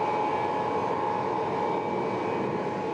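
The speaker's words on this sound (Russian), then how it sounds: "Военно-транспортный самолет Ил-76 стартовал с аэродрома Мигалова" An Il-76 military transport aircraft departing Migalovo airfield gives off a steady, continuous engine drone with a sustained whine, moderately loud and unchanging, with no voices.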